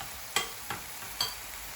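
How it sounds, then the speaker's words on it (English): Aubergine fries in a pan while it is stirred, giving three sharp scraping strokes over a faint sizzle. The strokes come close and at uneven intervals, with no voices. "Just giving the aubergine another mix."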